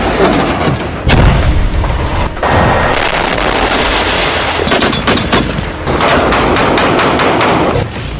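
Loud, dense war sounds from Gaza: heavy booms of bomb and missile blasts mixed with rapid bursts of gunfire, continuous and chaotic for several seconds with no speech.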